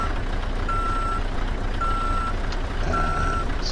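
Reversing alarm on a truck backing up to hook a trailer in Euro Truck Simulator 2, three evenly spaced steady beeps over a constant low engine rumble.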